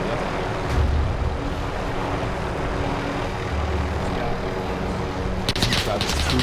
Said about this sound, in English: Two choppers here now.